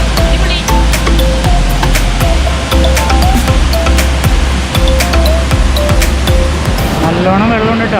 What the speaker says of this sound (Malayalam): അടിപൊളിയായിട്ട് കാണാം വെള്ളച്ചാട്ടം.